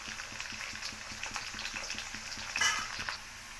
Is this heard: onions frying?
yes